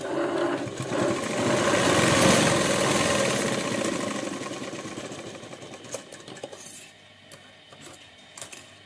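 A sewing machine stitches a 5-inch pleat on a lined blouse, running in a steady, loud whir that peaks and then fades away, followed by a few scattered light clicks and taps.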